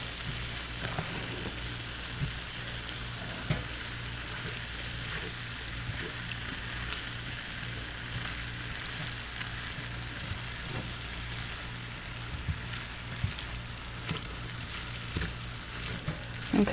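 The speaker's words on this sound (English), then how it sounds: "just keep mixing until you have everything mixed together well" A chicken and rice mixture is stirred in a pan over a soft, steady sizzle, with occasional spoon scrapes and light clicks over a low background hum.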